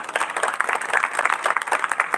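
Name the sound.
audience applause at a kirtan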